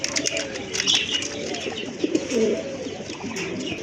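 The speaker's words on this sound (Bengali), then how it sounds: "মাশাল্লাহ বোম্বাই কবুতর অনেক বড় সাইজের কবুতর" Soft, throaty coos of large Bombay pigeons repeat nearby in low rolling calls, with faint background chatter.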